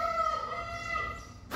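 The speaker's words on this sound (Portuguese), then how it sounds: "7 da manhã o galo canta demais" A rooster crows in one long drawn-out call, clear and fairly close, with a short sharp sound cutting in at the end.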